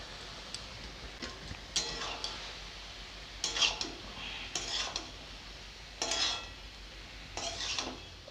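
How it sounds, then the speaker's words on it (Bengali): Chana dal tipped into a pot of spinach cooking on the stove, giving a series of short clattering pours and utensil knocks against the pot, separated by quiet pauses, with no talking. "এবারে দিয়ে দিব আমি ছোলার ডাল"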